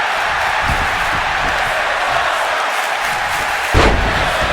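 A WWE 2K25 arena crowd at a Raw match in Boston's TD Garden roars in a loud, continuous wash of cheering, with a couple of dull thuds and a sharper impact near the end.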